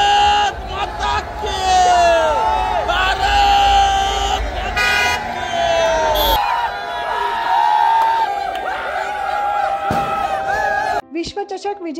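Cricket fans celebrating a World Cup win on College Road: a loud, dense street crowd cheering and shouting, with repeated car and air horns honking throughout before the noise cuts off near the end.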